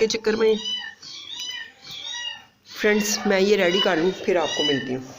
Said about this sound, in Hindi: पीछे आपको बिल्लियों की आवाज़ें आ रही होंगी